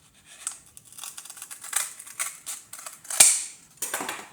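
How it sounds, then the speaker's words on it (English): Strong scissors snip through a piece of material in a series of quiet, crisp cuts, close by and irregular, with one sharper snap near the end. "Take one of your stronger scissors,"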